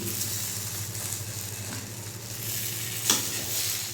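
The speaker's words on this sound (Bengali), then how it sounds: "এদিকে আমি বিরিয়ানির জন্য চালগুলো আগে ভেজে নিলাম" Rice frying in a pot before making biryani, a soft continuous sizzle with stirring scrapes and one sharper knock of the spoon near the end, without talk.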